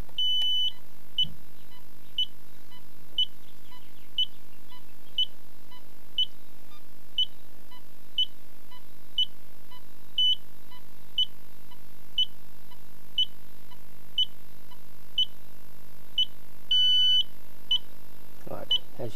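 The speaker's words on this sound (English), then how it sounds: "so we'll switch on the beeper box" Short electronic beeps repeat at a steady, even pace for the whole stretch, clear but not loud, with faint background hum and no voices.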